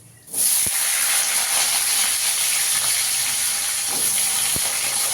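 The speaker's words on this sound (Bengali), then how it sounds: "আলুটাকে একটু লাল লাল করে ভেজে দেবো।" Potatoes frying in hot oil spiced with cardamom, cloves and whole cumin, a loud, steady, dense hiss that rises suddenly and holds throughout, with a couple of faint knocks, close and without speech.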